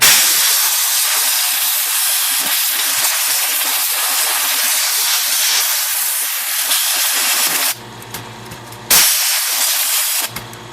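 A spray cleaner is blasted into a Royal QDL vintage typewriter, a loud close continuous hiss for several seconds, then two more short bursts separated by brief pauses.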